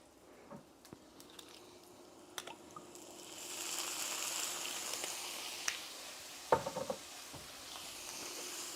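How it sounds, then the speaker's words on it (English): A hot pan deglazed with sherry vinegar while cooking lime liver, a sizzle that swells midway and hisses steadily after a few sharp clinks and scrapes of utensils. "now deglaze that with sherry vinegar"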